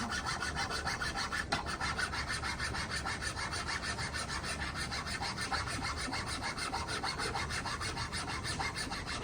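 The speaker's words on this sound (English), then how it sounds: "Isn't it fun to watch me saw?" Steady, rhythmic rasping strokes of a small saw cutting through metal, close up and continuous, with no talking.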